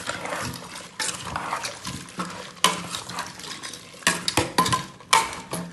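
Coriander powder, turmeric powder and salt get stirred into a curry mix in a pot for a pressure-cooker curry. Close, uneven scraping and clattering strokes arrive in bursts, with no talking.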